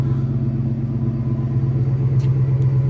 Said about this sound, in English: Custom exhaust, you'll hear that